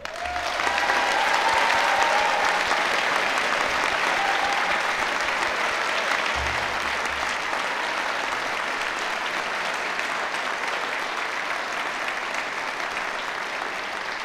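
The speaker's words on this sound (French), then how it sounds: "c'est le temps d'applaudir chaleureusement les nouveaux docteurs" An audience at a university education faculty graduation ceremony applauds the new doctors warmly, a steady, even wash of clapping from many hands lasting the whole stretch, with a brief voice at the outset.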